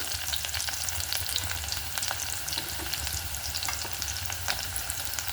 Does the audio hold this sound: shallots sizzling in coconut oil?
yes